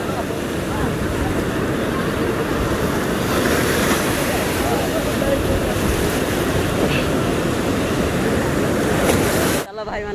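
Sea waves break at the beach in Puri, a steady, loud wash of surf heavily buffeted by wind on the microphone that runs without a break and then cuts off abruptly near the end.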